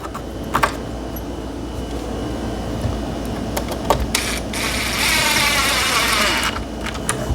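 Three-inch screws being tightened down into glued wood pieces, heard as a continuous whirring, buzzing drive sound that grows louder and steadier midway, with a few sharp ticks.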